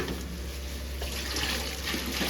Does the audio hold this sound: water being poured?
yes